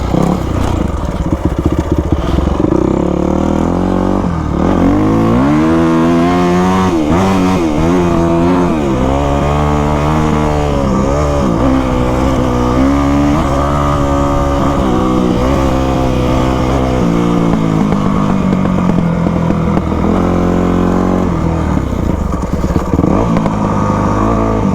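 An imported dirt bike's engine runs loud and close throughout, its pitch rising and falling through repeated revs with a rough, buzzing clatter.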